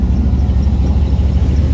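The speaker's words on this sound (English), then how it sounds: "I got to yell a little bit over the sound of the engine" A car engine fitted with a Holley 600 cfm carburetor runs steadily after starting, a loud, constant low rumble with an even drone and no clear rev changes, close up and without talking.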